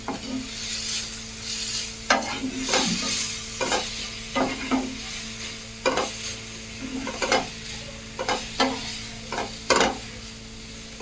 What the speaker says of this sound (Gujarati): હવે અહીંયા મેં 2 નંગ ખમણેલા ગાજર લીધા છે, એને પણ આપણે એડ કરી દઈએ. મિક્સ કરી દઈએ બધું.